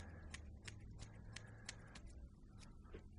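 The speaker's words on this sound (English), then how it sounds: "with the thinning scissors." Thinning scissors snip through an American Cocker Spaniel's head fur in a steady series of soft, crisp clicks, close by, over a low background hum.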